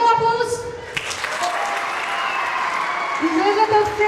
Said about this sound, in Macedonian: Дајте му аплауз.